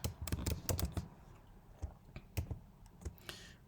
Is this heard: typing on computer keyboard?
yes